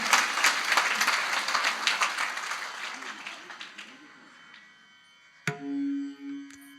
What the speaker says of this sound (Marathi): या लेकरांसाठी एकदा टाळ्या वाजवा जोरदार